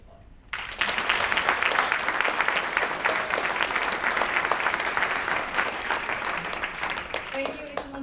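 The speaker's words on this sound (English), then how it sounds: "Please join me in applauding" Graduating class of U.S. Navy hospital corpsmen receives sustained applause from a ceremony audience, a dense wash of clapping that swells in suddenly and carries steadily to the end, with a few faint voices underneath.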